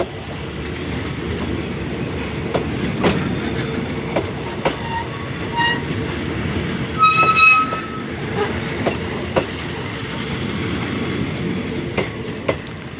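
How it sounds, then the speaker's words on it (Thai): Hitachi 4516 diesel locomotive hauling an express train out of Nakhon Lampang station in Thailand, a steady loud rumble with rhythmic wheel clacks and a brief horn sounding midway. "ตอนนี้ขบวนรถก็ออกจากสถานีนครลำปางนะครับ"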